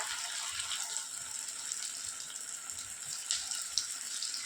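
Coated popcorn chicken pieces frying in hot oil in a pan, a continuous bright sizzle and crackle with scattered small pops, close and fairly loud, no voices.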